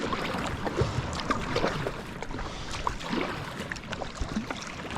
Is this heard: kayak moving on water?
yes